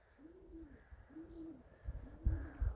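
Tumbler pigeons cooing softly, three evenly spaced low rolling coos close by, with a few faint knocks and rustles toward the end.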